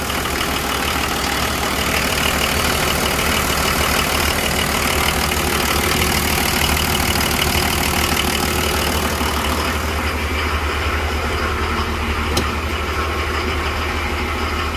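A Nissan Patrol with an SD33 diesel engine idles after a cold start following a long sit, giving a steady close rumbling clatter that holds evenly throughout.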